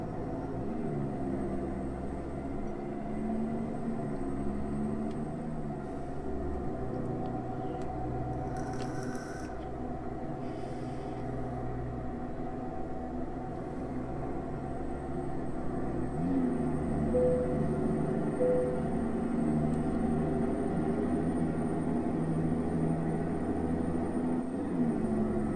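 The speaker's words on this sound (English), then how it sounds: "it's a very fast vehicle. Sounds like a sports car when it's going." An Oshkosh truck drives steadily at speed, its engine giving a continuous low rumble and whir with a sporty edge, close and constant throughout with brief shifts in pitch.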